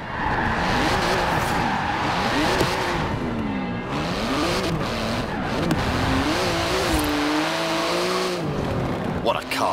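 A 3.8-litre twin-turbo flat-six car in Forza Horizon 4 revs hard, its engine pitch rising and falling, while the tires squeal and skid. The sound is loud and continuous for the whole stretch.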